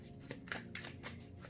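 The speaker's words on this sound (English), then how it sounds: "Let's shuffle some more cards" Tarot cards are shuffled by hand at close range, a quiet run of soft riffling and flicking bursts with brief pauses between them; no talking.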